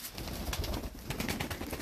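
Pigeons, including a Madrasi cross bird, coo in soft, repeated low rolls amid light background noise at a backyard loft in winter, fairly faint and with no one speaking.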